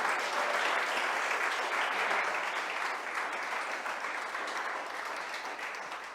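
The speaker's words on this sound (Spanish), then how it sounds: "Dale fuerte ese aplauso al Señor" A church congregation breaks into loud, dense applause during a sermon, a thick continuous roar of clapping that stays strong and eases off slightly toward the end.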